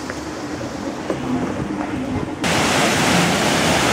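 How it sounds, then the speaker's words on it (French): Waterfalls at Disneyland park rush in a dense, steady roar that swells abruptly louder partway through, with faint background sounds under the first part and no talk over it. "Et à Disney, toutes les cascades fonctionnent."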